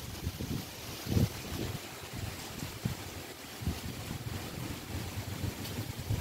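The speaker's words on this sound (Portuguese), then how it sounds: "o vento tá forte" Strong wind roars steadily against the microphone as rain begins, rumbling and gusting in low bursts throughout, with no voices.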